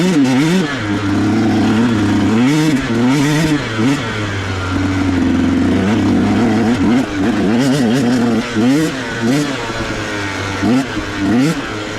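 A 150 SX dirt bike engine revs and bogs while riding at mines and meadows, its mid-pitched two-stroke drone rising and falling continuously up close.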